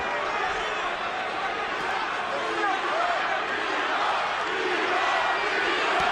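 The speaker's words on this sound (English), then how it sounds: "Crowd chanting B-Hop." A boxing crowd at the Bernard Hopkins vs. Sergey Kovalev fight roars and chants "B-Hop" in support of Hopkins, a dense, loud, continuous wall of massed voices that never lets up.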